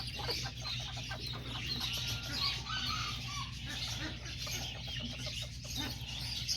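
Roosters and chickens, including small white roosters, cluck and call intermittently at a moderate distance over a steady low background hum, with faint talk in the mix.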